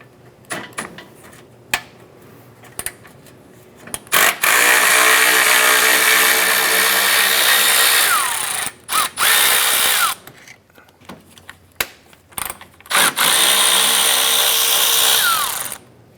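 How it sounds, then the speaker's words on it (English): Power tool driving a 10mm socket to remove the lower fan bolts on an Acura TL during condenser replacement, loud close whirring bursts of several seconds with pauses and small clicks between. "Using a 10mm socket, we're going to go ahead and remove our lower fan bolts here."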